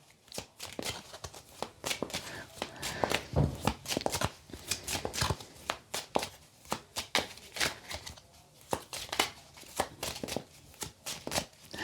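Tarot cards being shuffled and drawn by hand, with quick riffling bursts and soft slaps repeating steadily throughout, close up, with no one talking.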